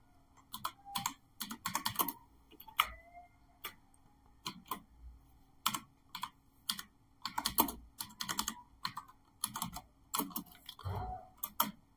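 Typing on a computer keyboard, clusters of crisp close key clicks in bursts with short pauses between them, alone in a quiet room.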